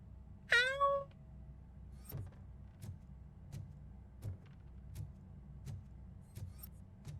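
A single cat gives one clear, rising-and-falling meow inside the video game RoboCop: Rogue City, followed by a series of regular soft clicks or taps over a low ambient hum.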